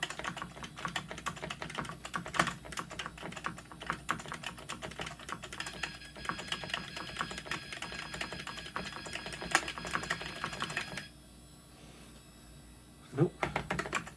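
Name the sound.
computer keyboard keys being pressed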